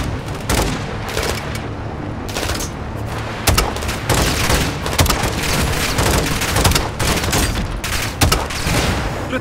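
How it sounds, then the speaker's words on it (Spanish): Sustained, loud gunfire in the Call of Duty Modern Warfare II campaign: dense bursts of automatic and single shots crackle without pause through a chaotic firefight, with heavier booms mixed in and shouted voices faint underneath. "¡Sigue disparándoles!"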